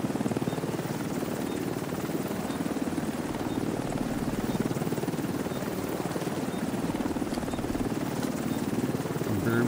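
A helicopter in the video game The Division's Dark Zone hovers on site, its rotor chopping in a steady, continuous thrum under a faint engine whine.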